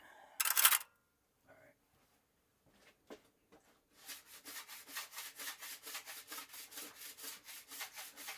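A plastic scraper pulls wax off the base of a GNU B Nice 148 snowboard, first a few isolated scrapes and knocks, then a steady run of rhythmic back-and-forth rasping strokes close by.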